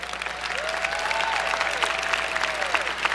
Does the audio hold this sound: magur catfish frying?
no